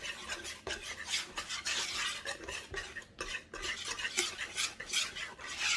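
A whisk beats ingredients in a bowl for a pig picking cake with close, rhythmic scraping and clinking strokes that continue steadily throughout.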